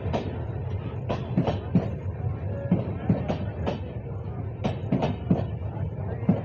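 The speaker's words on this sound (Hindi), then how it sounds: "देखिए प्लेटफॉर्म नंबर 4 पर लखनऊ इंटरसिटी का अराइवल।" Lucknow Intercity train rolling in to platform 4 at an Indian railway station, with steady rhythmic clickety-clack of wheels over rail joints, repeated sharp clanks from the passing coaches and faint station murmur underneath.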